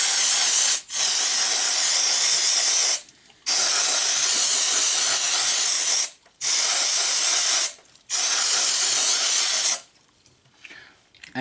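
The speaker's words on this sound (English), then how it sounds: "we're just going to hit this with some electric cleaner." Electrical cleaner sprays from an aerosol can onto a 2.4L starter in loud, close, sustained hissing bursts, four long blasts broken by short pauses, ending with quieter rattling of the parts.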